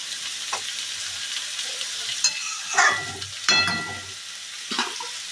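A Bengali dhaniya katla fish curry simmers and sizzles in a pan as water is added, steady frying hiss with several louder bursts of bubbling and stirring spread over a few seconds.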